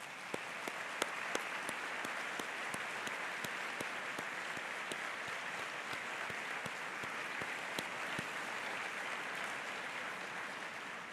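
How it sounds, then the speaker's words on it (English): A Memorial Day commemoration crowd applauds members of the World War II generation, with steady, moderately distant clapping and a few sharper individual claps standing out throughout. "Let's give them a round of applause."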